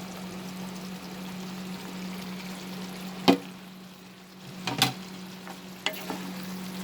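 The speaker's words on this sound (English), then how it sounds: "Now we are going to add the fried okra or lady's finger." Fried okra tipped into a pan of cooked potatoes, a low steady sizzle punctuated by a few sharp clatters of spoon and pan as the pieces go in.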